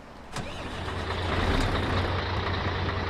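A Scania 112H Intercooler truck engine in Euro Truck Simulator 2 turns over and settles into a loud, rumbling idle after a brief hiss.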